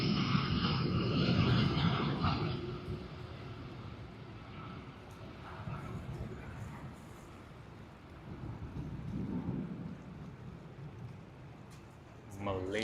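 Malaysia Airlines Airbus A330-900 jet at Sydney Airport, a broad distant engine roar that is strongest at first and slowly fades, with wind buffeting the microphone and someone talking over it.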